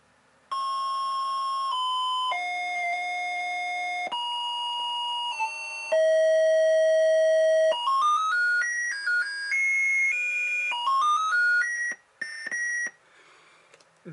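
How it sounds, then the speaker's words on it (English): Beeping electronic victory jingle from The Black Cauldron video game, a chain of pure chiptune tones stepping through a cheerful melody with quicker runs near the end, playing alone and clearly. "That happy sound you hear when you win the game called The Black Cauldron."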